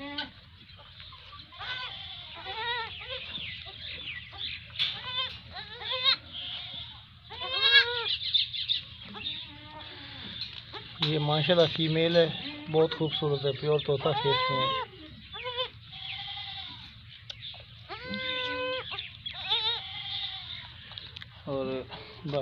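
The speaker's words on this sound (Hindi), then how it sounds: "मेरी बकरी ने 4 बच्चे दिए हैं" Four newborn goat kids, three males and one female, bleat repeatedly near and far while someone talks over them, with an occasional chicken cluck in the background.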